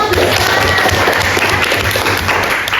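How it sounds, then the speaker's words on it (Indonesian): Applause from a class of students, a dense continuous patter of clapping held at steady loudness throughout, close and full, with no talk over it. "tepuk tangan dong"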